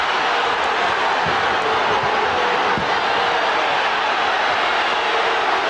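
Arena crowd at an NBA Finals game between the Phoenix Suns and Chicago Bulls in 1993 in Phoenix, a dense, steady roar of many voices that fills the space evenly and keeps going without a break.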